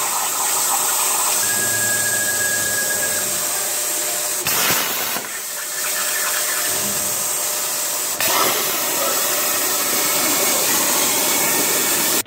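A plasma cutter cutting out a custom lowrider-inspired metal plaque: a continuous loud hissing, rushing blast with a few sharp bursts and brief tonal whines, close up, no talking.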